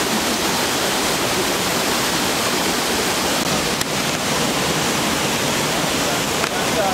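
A river flows outdoors, giving a steady, loud broadband rush of water that stays constant throughout, close and uninterrupted, with no clear speech over it.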